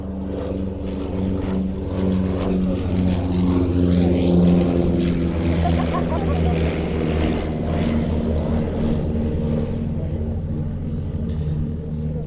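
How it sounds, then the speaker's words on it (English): A twin-engine aircraft with a pair of 100 horsepower Blackburn Cirrus Minor four-cylinder piston engines flies past at an airshow, its loud propeller drone throbbing steadily, swelling as it nears and fading gently as it moves away. "Powering this aircraft, a pair of 100 horsepower Blackburn Cirrus Minor 4-cylinder piston engines"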